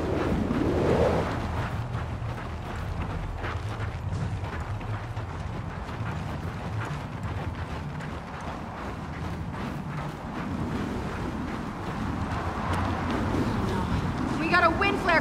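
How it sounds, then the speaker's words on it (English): A wind flare storm approaches in a video game, a broad roaring, whooshing gust that stays loud and steady throughout with rumbling low end; voices talk over it. "We got a wind flare coming in."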